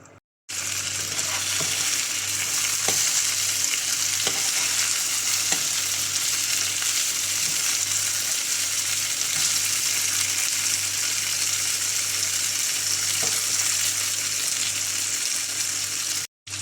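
Tandoori chicken fries in a pan with a loud, even sizzle that holds for the whole stretch, with occasional faint clicks and no speech, cutting off abruptly at both ends.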